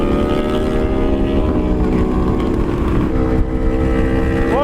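Aprilia RSV4 sport bike riding by with an Aprilia Tuono V4 following, a loud, steady V4 engine drone with strong harmonic tones and a rising rev near the end, fairly close throughout.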